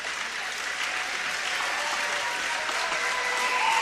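Basketball crowd applauds steadily as players head to the bench at a school game against Waterloo, a dense, sustained wash of clapping throughout, swelling slightly at the end.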